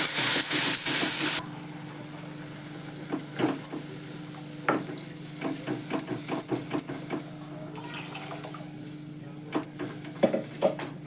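Spinach paneer curry seasoned with red chilli powder and turmeric bubbles and hisses in a pan, with a burst of steamy hiss at first, then soft intermittent pops and spits through the rest.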